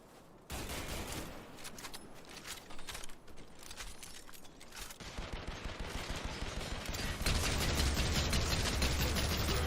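Rapid video-game gunfire crackles in long automatic bursts, loud and close, with short pauses between strings of shots that grow denser toward the end.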